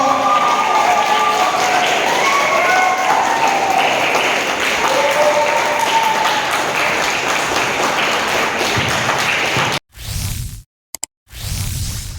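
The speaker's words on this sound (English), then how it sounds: "So please kindly give a thunder round of applause for sir" A round of applause at a summer karate camp closing ceremony, continuous clapping from the gathered crowd with some voices mixed in, then a few abrupt, loud bursts and cutoffs near the end.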